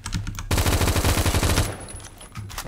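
Automatic fire from an M4A1 rifle chambered in .223 in the shooter game Phantom Forces: a loud, fast, steady burst of shots lasting about a second, then a few scattered quieter shots.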